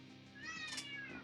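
A single short cat meow rises and falls close by, a clear tonal cry lasting about a second against a quiet background.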